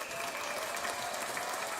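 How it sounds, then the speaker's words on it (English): Audience applause at a talk: a dense, steady patter of clapping that carries through the whole short moment at moderate level. "I appreciate the applause."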